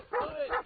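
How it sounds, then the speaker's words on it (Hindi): A puppy gives two short, high yelping barks in quick succession, close and fairly loud, in a comedy movie trailer. "वो कुत्ता वो बंदे को खा रहा है।"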